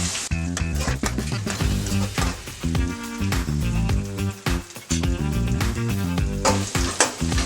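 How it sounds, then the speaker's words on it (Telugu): Onions frying in oil until light brown, a busy crackling sizzle with stirring that runs continuously at a moderate level. "మనం ఉల్లిగడ్డ లైట్ బ్రౌన్ కలర్ వచ్చే వరకు కూడా మనం ఆయిల్లో ఫ్రై చేస్తూ ఉండాలి"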